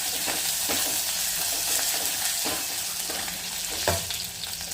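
Spiced tempering for Khandeshi curd kadhi sizzles steadily in a pan, with a spoon scraping and stirring through it in repeated strokes, close and fairly loud with no talking.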